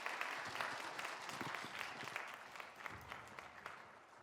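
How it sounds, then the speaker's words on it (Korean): Congregation applause at a Korean Sunday church worship service fills the room: steady, dense clapping from many hands, moderately loud and continuous throughout, with no speech over it. "네, 우리 한번 박수로 맞으시기 바랍니다"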